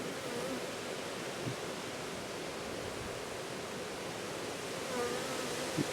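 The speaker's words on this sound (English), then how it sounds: "the bees are a lot calmer, aren't they?" Honey bees drone at an opened hive on a farm, a soft, steady, even buzz that stays faint and continuous throughout.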